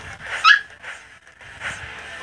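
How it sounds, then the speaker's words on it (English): A puppy indoors gives high, thin whimpers and yips in two short bursts with a pause between, fairly close and moderately loud, with no talk over them. "Sorry, that was my puppy."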